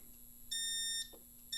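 A fire alarm panel sounds its alarm in long, steady electronic beeps of about half a second each, separated by short gaps, over a faint background hum.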